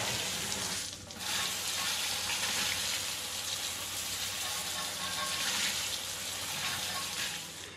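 Gentle shower-setting water spray misting a very dirty car wheel and tire: a continuous soft hiss of spray with a short break near the start, then steady rushing throughout, fairly quiet.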